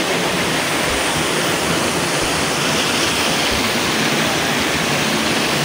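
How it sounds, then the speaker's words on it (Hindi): A small mountain waterfall on the trail between Kel and Arang Kel roars in a dense, steady broadband rush that fills the whole clip, close and loud with no voices. "ये आबशार है, यही आबशार है।"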